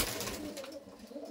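Madrasi pigeons perched in a Chennai loft give off a steady, low, overlapping cooing murmur, fairly close and continuous with no voices.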